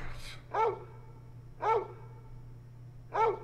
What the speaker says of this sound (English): Puppy, what you barking about?